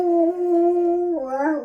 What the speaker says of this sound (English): Go on then, howl.